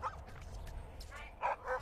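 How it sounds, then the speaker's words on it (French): A hunting dog gives a few faint, distant yips and barks in a snowy outdoor setting, short bursts clustered near the end. "Donc moi j'ai un chien un petit peu atypique, parce que c'est un chien de chasse"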